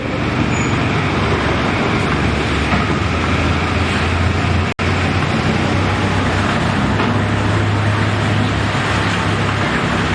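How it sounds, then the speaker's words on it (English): Large mining truck in an underground gold mine tunnel, a steady loud engine and road rumble filling the space for the whole stretch, with one sharp click partway through. "They had to be made this big just to accommodate that truck right there."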